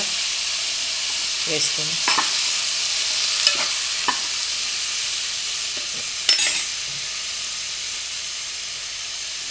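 Washed broad beans (chikkudukaya) cooking in a pan over low heat, with a steady hissing sizzle and occasional spoon knocks and scrapes; one brief spoken word.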